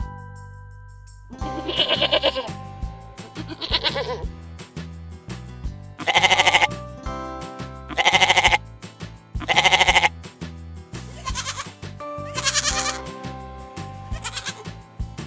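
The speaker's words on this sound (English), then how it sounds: "goat," A goat bleats repeatedly in loud, wavering calls, several separate cries with short pauses between them, close and clear over a steady tonal musical backing.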